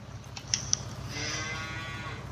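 A cow in a farm barn lets out one drawn-out, fairly faint moo after a couple of sharp clicks, with low steady barn noise underneath.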